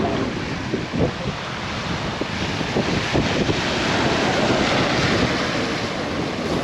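Sea waves wash steadily onto Laem Mae Phim beach in Rayong while wind buffets the microphone, making a continuous loud roar with small surges and no talking.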